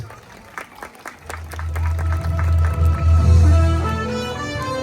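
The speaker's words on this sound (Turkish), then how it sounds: "Sayın Saliha Demirer hanımefendiyi alkışlarınızla nikah masasına davet ediyoruz." Wedding guests at a ceremony in Beykoz applaud as a guest is invited to the marriage table, the clapping building over a steady low hum, with scattered crowd noise.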